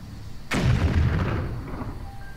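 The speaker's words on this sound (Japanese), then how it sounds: "何今の？ こんなところで爆発？" A sudden explosion in the video game Atelier Ryza booms out in one sharp blast, then rumbles and fades over the next two seconds.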